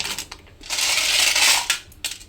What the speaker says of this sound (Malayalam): ഇനി നമുക്ക് ഈ ഇളമ്പക്ക ഇതിലിട്ട് കൊടുക്കാം.